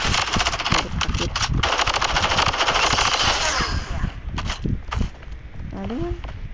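Rapid automatic gunfire from a shooter video game rattles almost continuously for several seconds, then thins into scattered shots and mechanical reloading clicks, with a voice speaking briefly near the end.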